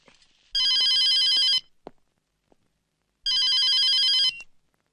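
A telephone in an old Malayalam comedy film gives two loud, close electronic ring bursts, each about a second long, with a quiet pause between them.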